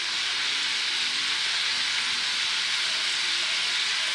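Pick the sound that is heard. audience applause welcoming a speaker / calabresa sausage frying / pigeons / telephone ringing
calabresa sausage frying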